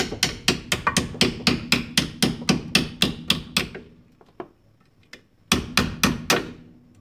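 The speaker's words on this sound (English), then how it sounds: "I'll just kind of tap the needle nose pliers and so that it works that all the way out." A hammer taps needle nose pliers to drive a part out of a ball joint during a Jeep Cherokee ball joint replacement, giving a fast, steady run of about a dozen sharp metallic strikes, a pause with a lone tap, then three more close, loud blows.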